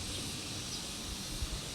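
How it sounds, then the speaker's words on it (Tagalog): Steady insect chirring, likely crickets, fills a quiet garden at a relaxing retreat in Alfonso, Cavite, with faint bird calls mixed into the constant hiss-like drone; no one speaks. "naririnig nyo ba yung mga huni ng ibon at kuliglig?"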